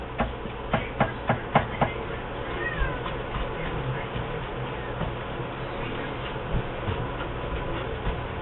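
A kitten on a kitchen counter during cheesecake preparation gives a few soft meows amid light tapping and kitchen clatter, over a steady low background hum.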